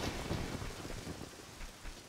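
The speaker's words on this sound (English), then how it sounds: "Oh, look, rain. Will the rain help make the plants grow?" Rain and thunder from The Legend of Zelda: Ocarina of Time fill the clip as a steady, dense patter of rainfall with a low rumbling undertone, with no voices.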